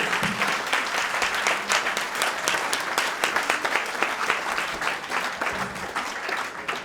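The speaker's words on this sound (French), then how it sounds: "Vous pouvez encore applaudir tous nos candidats," An audience claps steadily for the candidates of an oyster-opening contest in Charente-Maritime, a dense, continuous round of applause heard fairly close.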